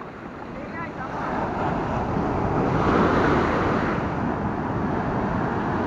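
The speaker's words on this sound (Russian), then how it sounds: "Вот это волны!" Ocean waves crash and surge onto a beach at Jimbaran, Bali, a steady loud roar of surf with wind buffeting the microphone, building around the middle and staying full throughout.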